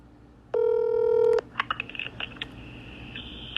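Telephone keypad DTMF tones on a phone call: one steady dual-tone beep held for about a second over a low line hiss, then several short faint clicks and thin tonal blips from the line.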